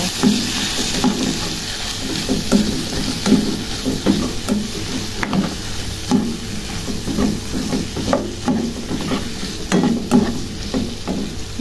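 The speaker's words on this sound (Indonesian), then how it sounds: "kita masukkan buncisnya kita aduk sampai merata" Green beans tossed with spices in a hot frying pan, a steady sizzle under repeated scraping and clacking of a spatula stirring at an irregular rhythm, close and fairly loud with no talking.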